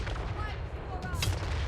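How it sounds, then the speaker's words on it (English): Grand Cannons of Cathay firing artillery in the fantasy strategy battle of Total War: Warhammer 3, heavy booms rolling amid a dense, continuous din of distant battle noise. "our Grand Cannons will continue their fire, this time targeting the 3 enemy units of Blood Beasts of Khorne here"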